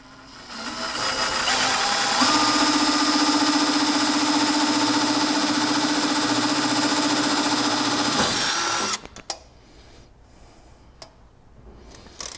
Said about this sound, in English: I'm using a 5/16 drill.